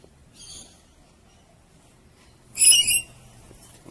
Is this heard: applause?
no